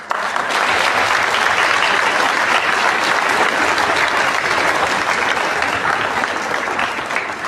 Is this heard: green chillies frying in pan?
no